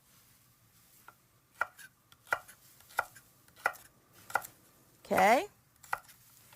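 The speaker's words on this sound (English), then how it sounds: "take your celery and just take a very sharp knife and cut it into smaller pieces" A very sharp knife chops celery on a board in evenly spaced, crisp strokes, about one per second, close and clear, with a brief spoken word partway through.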